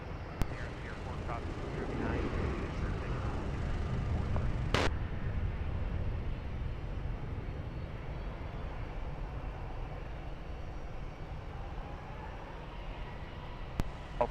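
An airliner taking off at Lisbon Airport makes a broad, steady engine roar. It builds slightly, then fades slowly as it heads away, with faint radio chatter and a couple of sharp clicks on top.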